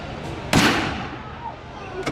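A cannon firing aboard the Sailing Ship Columbia at Disneyland, a single sharp, loud boom that rings out briefly, followed by a fainter pop.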